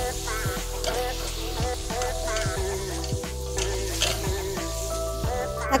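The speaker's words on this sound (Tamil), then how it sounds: "நம்ம நறுக்கி வச்ச தக்காளியை போட்டு நல்லா வதக்கிக்கலாம்" Steady sizzling of chopped tomatoes sautéing in oil for a chickpea and coconut milk curry, with occasional stirring scrapes and clinks in a pan, close and continuous.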